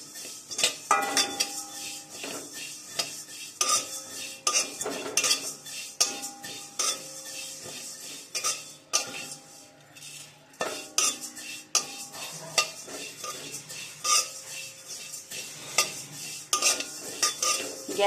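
Cumin seeds are dry-roasted and stirred in a pan on low gas, and a metal spatula scrapes and clinks against the pan in irregular strokes for the whole stretch.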